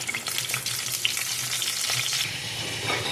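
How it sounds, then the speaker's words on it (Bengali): Pointed gourd (potol) hits hot salted oil in a pan, setting off a loud, dense sizzle with crackling spatter and stirring clatter, close up and with no voices. "তেলটা গরম হয়ে গেছে, এবার আমি পটলগুলো সব ভাজতে দিয়ে দেবো"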